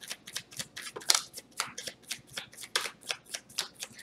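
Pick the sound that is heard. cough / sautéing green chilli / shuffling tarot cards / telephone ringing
shuffling tarot cards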